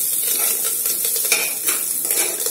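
Garlic and other ingredients for moong dal khichdi sauté in a hot pan, giving a steady close sizzle with a spoon scraping and stirring throughout, without any talk.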